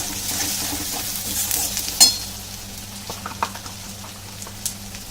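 Pangas fish frying with cumin and coriander powder in a pan, a close sizzle with stirring and a sharp metallic clink of a spoon against the pan.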